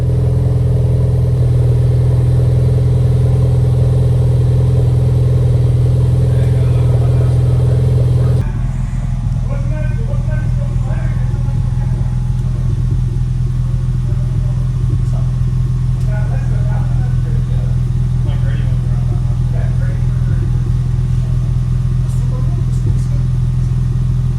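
Ford EcoBoost SVO engine breathing through an MBRP exhaust, a loud close droning note that shifts to a rougher, lower idle partway through, with people talking and shouting over it.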